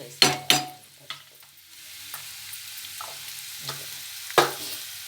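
Sliced onions and potatoes with turmeric fry in a pan, a soft sizzle broken by a few sharp scrapes and clacks of a stirring spoon, with no voices.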